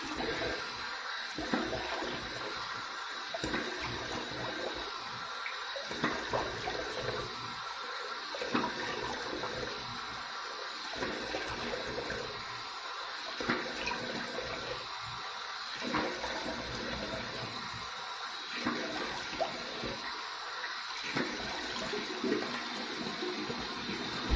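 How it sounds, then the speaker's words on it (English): Warm water runs steadily from a tap for a rinse after a wet shave, a continuous soft splashing rush with faint irregular spatters as hands move through the stream. "Here's my warm water rinse."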